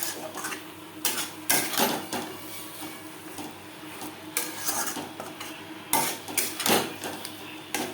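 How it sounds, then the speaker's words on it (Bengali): Boiled potatoes stirred into a cooked masala in a pan for a Bhangor fish curry, with a spoon scraping and clattering against the pan in irregular close bursts and no voices. "মশলার সাথে আলু বেশ ভালো করে মিক্স করে দেবো"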